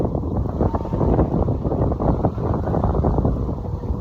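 Strong wind buffets a microphone on a bay trail during a bike ride, a loud, continuous low roar with no talk.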